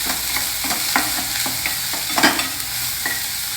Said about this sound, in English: Stir the onion.